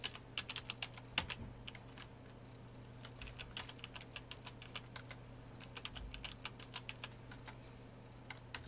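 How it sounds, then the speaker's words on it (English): A computer keyboard being typed on to enter a new password, with bursts of quick close key clicks separated by short pauses over a faint steady hum. "type in your new password"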